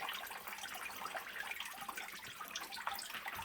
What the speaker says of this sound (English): To help the rest of the water drain out of that one